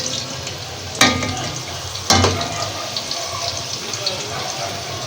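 Steady oil sizzling from bitter gourds frying over medium heat, broken by two sharp clinks of a utensil, with a voice speaking over it.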